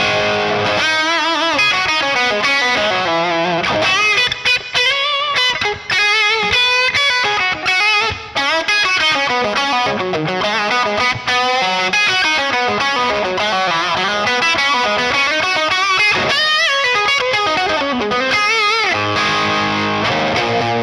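A Gibson Les Paul electric guitar played through spring reverb for a classic tone, loud and continuous with driven, distorted chords and ringing sustained notes over about twenty seconds, no talking.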